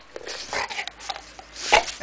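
Soft, close dog noises, quiet whimpers and snuffles, scattered across a short quiet stretch.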